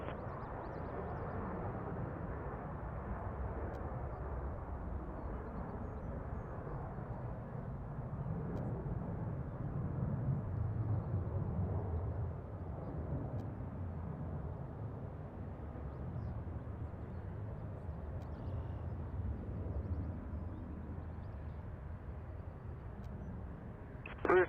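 An Airbus A330 rolling for takeoff at Toronto airport, heard as a steady, fairly distant low engine roar that holds for the whole stretch with little change in level, without any talk.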